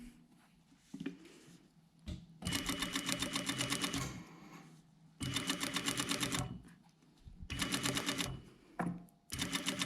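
A sewing machine back-tacking to secure the end of a seam on a jacket front with a double piped pocket, running in three rapid bursts of stitching separated by brief pauses, close and clear with no talking.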